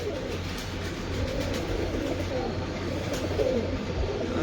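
Breeder pigeons in a loft coo softly and steadily, a low continuous murmur under constant background hum, with no talk over it.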